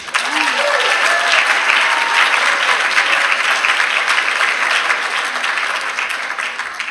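An audience at a Harvard College midyear graduates celebration breaks into loud, sustained applause that fills the room and tapers slightly toward the end, welcoming Professor Edwards.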